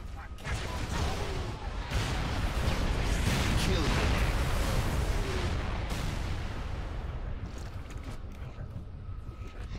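Artillery barrage in Halo Firefight, a dense, sustained rumble of heavy blasts and crashing impacts rolling on for several seconds, loud and continuous before slowly tapering off.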